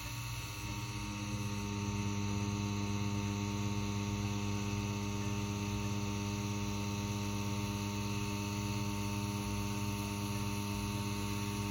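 A tattoo machine buzzes steadily and close by while pulling lines in skin, with the needle deliberately driven too deep to cause a blowout. The even, unbroken electric drone runs through the whole stretch with no talking.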